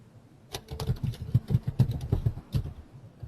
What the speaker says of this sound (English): Somebody's typing.